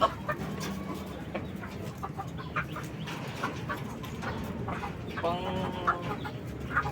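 Kabir breeder chickens cluck and chatter while feeding, a busy overlapping flock sound with short calls throughout, moderately close.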